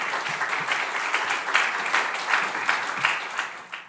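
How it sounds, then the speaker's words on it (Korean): A church congregation at a Friday prayer meeting bursts into warm, steady applause welcoming the pastor, many hands clapping close and full before fading out. "우리 박문영 목사님이 나오실 때 우리 큰 박수로 환영해 주시면 감사하겠습니다."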